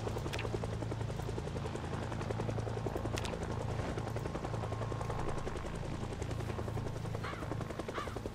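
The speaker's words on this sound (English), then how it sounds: "The helicopter event," A helicopter event in the zombie survival game Project Zomboid: loud, continuous rotor thumping with sharp gunfire-like bursts over it, with no talk.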